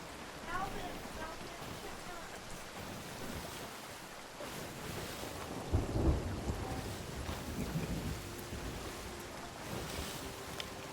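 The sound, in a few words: rain and thunder in a video game, Sea of Thieves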